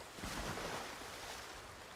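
Spring water in Ghost of Tsushima flows in a soft, continuous wash, faint and steady, like a gentle stream with no voices over it.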